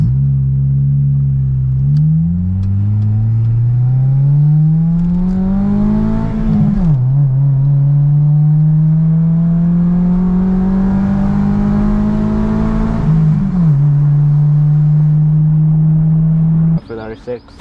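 An Acura RSX engine fitted with an Injen cold air intake revs up twice, close and loud, rising to a sustained whining drone and dropping back in between, then cutting off abruptly at the end.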